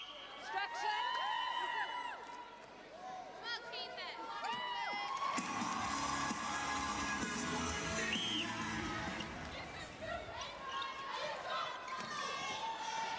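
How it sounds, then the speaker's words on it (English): A big raucous crowd cheers and shouts at a New Zealand versus England netball final, a loud swelling roar with whoops. Whistles and a commentator's voice sound over it. "Big raucous crowd really getting into this one"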